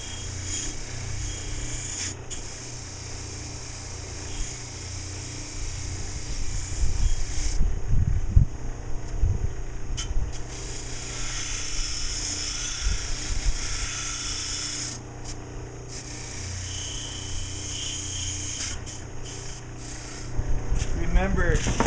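A wire brush scrubbing a metal hand plane during restoration, with rough rasping strokes that come and go in bursts, sometimes broken by short pauses, close and fairly loud, and someone talking over parts of it.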